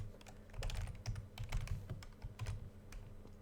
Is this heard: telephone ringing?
no